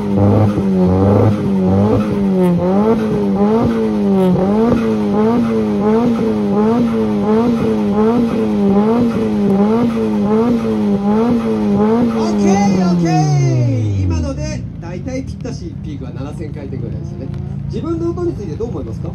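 A Nissan Silvia with an Origin muffler revs hard at a loud-exhaust contest, the engine bouncing rhythmically near the limiter for about twelve seconds before dropping back, loud and close with background noise throughout.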